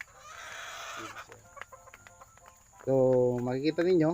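Free-range native chickens cluck close by while feeding on chopped cabbage and bran, soft repeated clucks and rustling under someone speaking, ending in louder drawn-out calls.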